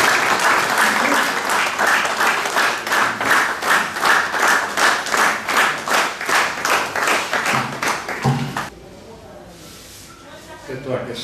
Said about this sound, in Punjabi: ਤੁਸੀਂ ਤਾੜੀਆਂ ਦੇ ਨਾਲ ਉਹਨਾਂ ਦਾ ਸਵਾਗਤ ਕਰੋਗੇ